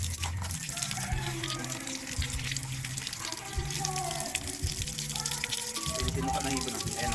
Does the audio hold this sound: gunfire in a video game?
no